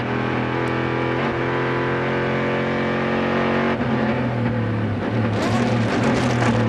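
Onboard a Corvette C6R race car at speed in American Le Mans Series racing, a loud steady engine drone with shifting pitch as it accelerates and changes gear, close and continuous.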